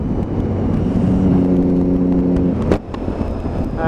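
A Triumph Daytona 675 motorcycle fitted with an aftermarket exhaust can rides along a dual carriageway, its engine holding a steady droning note before a sharp snap and a lower burbling run as revs drop.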